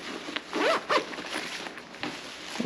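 Zipper on a fanny pack diaper bag, pulled in two quick close strokes followed by softer handling and rustling of the bag.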